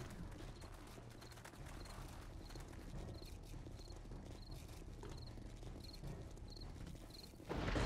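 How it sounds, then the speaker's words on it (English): Footsteps on concrete in the video game 7 Days to Die, Alpha 19: faint, evenly spaced soft thuds repeating about every half second under a constant low ambient drone, with a louder burst at the end. "That sounds like footsteps on concrete."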